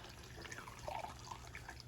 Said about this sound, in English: Now I'm going to just pour this back into the banana water.